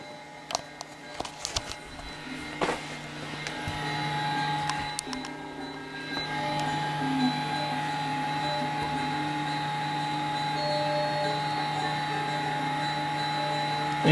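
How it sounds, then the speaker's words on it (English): Audio plays through the small internal speaker of an IBM PS/2 Model 80 freshly recapped computer, a buzzy, steady tonal drone with harsh high whine, near and continuous after a few clicks at the start. "It is playing through the internal speaker."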